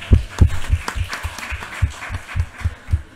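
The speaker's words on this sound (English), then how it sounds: "which I think deserves a round of applause" Applause from an audience at a literary panel event, a short burst of steady close clapping with a thumping rhythm.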